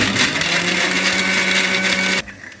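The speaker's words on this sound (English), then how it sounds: "my blender takes both wet and dry" A blender grinding dry crayfish whirs loudly and steadily with a grinding rattle, then cuts off abruptly near the end, leaving quiet room tone.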